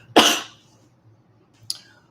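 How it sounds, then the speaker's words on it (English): A person coughs once, loud and close, during an evening online class, followed after a pause by a second, much shorter and fainter cough or throat sound. "as soon as I go in front of the camera, I start coughing"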